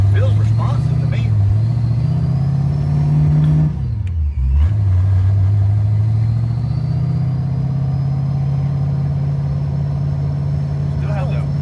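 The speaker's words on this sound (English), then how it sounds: "Does it feel different revving up?" A car engine with no coolant in it runs steadily and loudly for the whole stretch, a strong low hum with a brief dip and recovery near the middle, with faint voices underneath.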